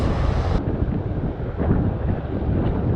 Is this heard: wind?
yes